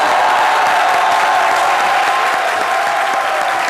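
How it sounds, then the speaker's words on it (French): An audience applauds after a comedy sketch, a dense, steady wash of clapping from a large crowd, loud and continuous with no talk over it. "Merci de l'applaudir très fort."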